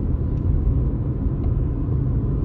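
A car driving downhill in low gear on a mountain road near Abha, Saudi Arabia, gives a steady, close engine and road rumble that holds even throughout, with no speech.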